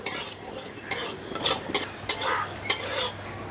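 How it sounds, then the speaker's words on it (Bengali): Whole coriander seeds being fried in a pan and stirred with a metal utensil, giving repeated scraping clinks and scrapes over a soft sizzle, close and fairly loud. "ধনেটা একটু ভাজা ভাজা করে নেব।"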